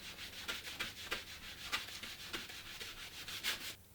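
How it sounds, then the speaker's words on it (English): A plastic scouring pad scrubs back and forth across an acrylic swatch, giving about eight quick, close, dry rubbing strokes in a steady rhythm, with no voices. "On the side without VuPlex, we use the scouring pad and rub on the surface"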